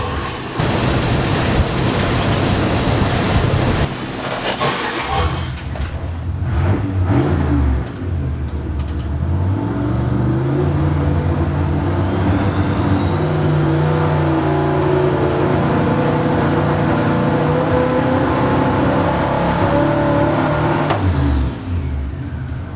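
Car on a dyno revs hard with an ignition misfire, engine climbing and wavering in pitch with uneven stumbles, loud and close, then cutting off abruptly near the end.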